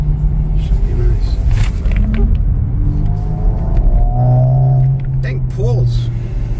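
A new 2025 Tesla Model Y Juniper accelerates, giving a low road rumble and a faint rising electric whine from inside the cabin, with people talking over it.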